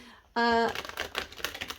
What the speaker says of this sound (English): these are huge cards, so it's like shuffling Christmas cards